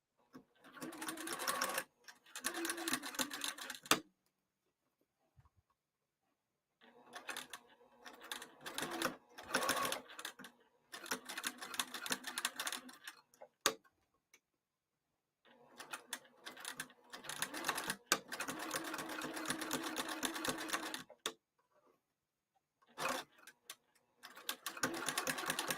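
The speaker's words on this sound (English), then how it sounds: "next I'm going to sew the edge that's closed" Sewing machine stitching the closed edge of a cross-body bag exterior, close and fairly loud in several bursts of rapid rhythmic needle clatter separated by short quiet pauses.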